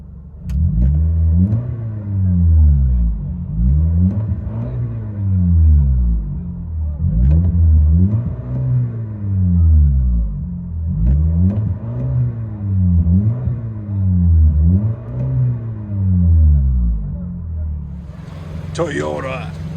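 2019 Toyota Camry SE with a four-cylinder engine and muffler delete, revved repeatedly with a deep, loud exhaust rising and falling in regular swells, with a voice speaking briefly near the end.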